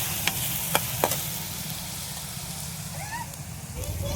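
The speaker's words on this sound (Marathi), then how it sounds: "आता हा मसाला मस्त परतून घेऊ लाल होईपर्यंत कलर होईपर्यंत" Ground masala frying and being stirred in hot oil over a village wood-fired stove for a fish curry, a steady low sizzle with a few sharp utensil clinks early on and faint chirps in the background.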